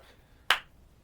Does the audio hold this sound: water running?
no